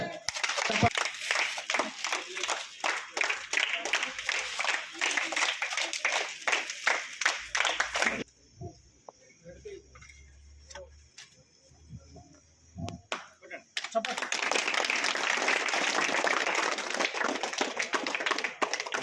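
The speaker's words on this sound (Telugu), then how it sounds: "చప్పట్లతో" An audience at a state government event in a tribal boys' residential school hostel in Warangal claps in two long bursts of dense applause, separated by a quieter stretch of a few seconds.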